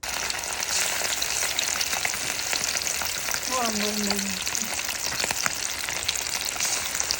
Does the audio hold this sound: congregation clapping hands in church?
no